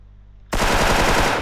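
After a near-silent moment, a loud, sustained burst of rapid machine gun fire starts abruptly and continues as a dense, close, rattling stream of shots.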